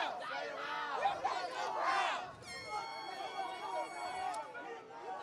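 Protesters during the Charlotte riots, a distant crowd of shouting and chanting voices that rise and fall, with a whistle-like tone partway through.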